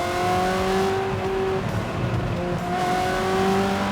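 A manual Ferrari 360 engine drones steadily and loud from inside the car, its revs holding with harmonic tones that gradually rise and shift across the whole stretch.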